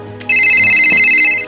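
A mobile phone ringtone plays loudly and close by, a bright repeating electronic melody that starts abruptly after a brief quiet moment and continues steadily.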